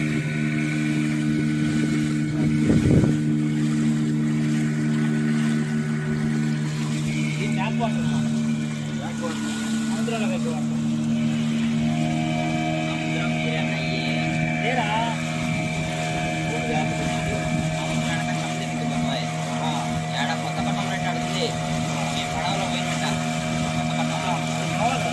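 Motorboat engine on a mangrove forest boat ride in Pondicherry, giving a loud, steady droning hum that runs unbroken throughout and shifts slightly in pitch partway through, with faint voices underneath.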